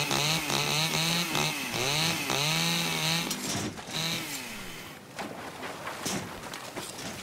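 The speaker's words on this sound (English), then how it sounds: "they are, with a revved up chainsaw." Revved chainsaw in the video game The Culling, a loud whining engine rising and falling in pitch in repeated surges, then sputtering and rattling down.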